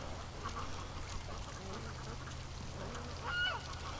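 Ducks being raised outdoors in cold, wet weather give a few soft quacks and honks, faint against a low steady background rumble.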